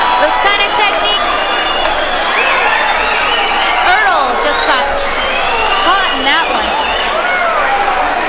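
An MMA fight crowd on its feet in a standing ovation, loud sustained cheering, whoops and whistles filling the arena, with a commentator talking over it.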